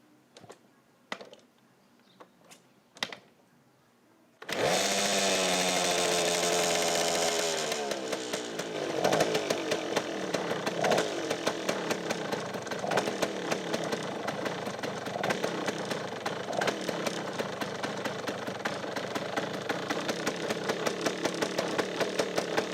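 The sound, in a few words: vintage motorcycle engine starting and running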